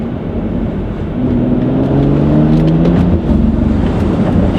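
A tuned BMW X3 35i with a VRSF downpipe, BHP intake and XHP tune accelerates hard in third gear. Its engine note climbs steadily in pitch, loud and close from start to finish, with a firmer surge after the first second.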